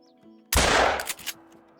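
In a Call of the Wild boar hunt, a 12-gauge shotgun fires a single slug, giving one close, loud blast that rolls into a short echoing tail and then quiet.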